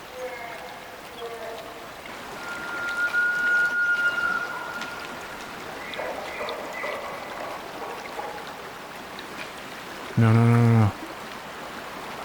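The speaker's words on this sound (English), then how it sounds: "You'd think the sound of the running water would cover me up a bit." Steady wash of running stream water during a hunt, a constant soft rushing flow in the background, with brief animal calls and a short loud tonal burst near the end, one spoken word.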